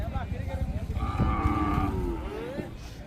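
Khillar cattle low at a village fair, with one long, close moo rising above a rumbling crowd and other animal sounds.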